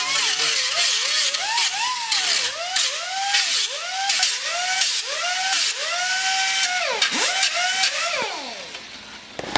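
A power sander works the cut edges of a metal no parking sign, its whine rising and falling in repeated sweeping strokes, close and loud with a gritty hiss over it.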